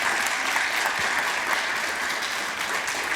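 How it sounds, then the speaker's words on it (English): An audience at a Ramadan Quran recitation audition show gives a sustained round of applause, a thick, even wash of many hands clapping, fairly loud and continuous without talk. "for that alone, you deserve a round of applause"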